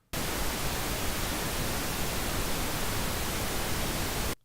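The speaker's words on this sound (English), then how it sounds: "We can then go in and listen to the pink noise." Synthesized pink noise for electronic music sound design, a smooth, steady full-range hiss with a little more low-end weight, starting and stopping cleanly and heard alone.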